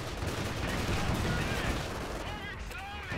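Battle sounds from Company of Heroes 2 as British snipers fire on a King Tiger tank: dense, continuous gunfire and explosions with steady rumble and crackle, and faint tonal game effects near the end.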